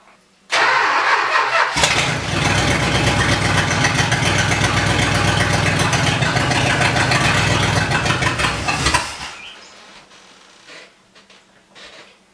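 A 1969 Dodge Charger engine, fed fuel from a bottle, cranks and catches, then roars loudly and roughly for about eight seconds before dying away into quiet.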